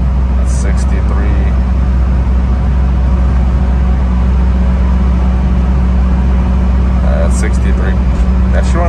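A 1994 Subaru Sambar micro van cruising at highway speed, with a steady loud engine drone and road roar filling the cab continuously, and brief higher squeaks or rattles near the start and end.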